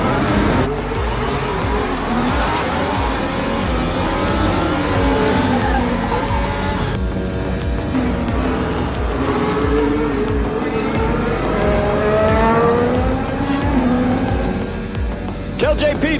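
Race cars in a racing video game roll out of the pit lane behind a safety car, a dense layered drone of engines rising and falling in pitch, steady and loud throughout with occasional tire squeal.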